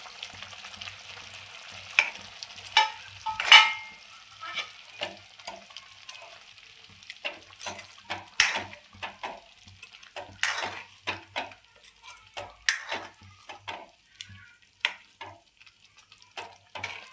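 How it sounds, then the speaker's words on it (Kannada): Paneer and peas masala gravy boiling in a pan, with a steady soft bubbling and sizzle broken by scattered spoon clinks and stirring scrapes, close up and without talk. "ಈಗ ನೋಡ್ರಿ, ಇದು ಬಾಯ್ಲ್ ಆಗೈತಿ."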